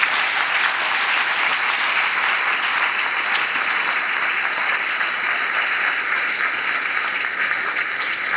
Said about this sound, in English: please give a round of applause to these wonderful people